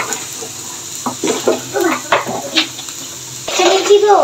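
Fried leftover rice is stirred in a pan, making a run of scraping clanks and utensil knocks at an uneven rhythm, close and fairly loud, with a voice briefly joining at the end.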